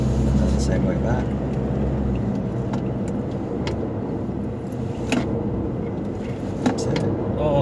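An SUV on Michelin LTX Force all-terrain tyres drives around cones on a test course, a steady engine and road rumble heard from inside the cabin with light knocks and people talking over it.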